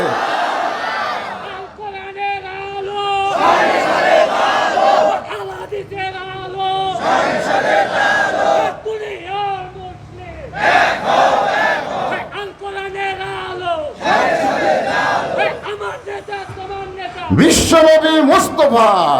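A large crowd at a Bangladeshi religious sermon gathering roars back the takbir in unison, repeated loud chanted shouts alternating with a leader's calls, echoing through an outdoor sound system.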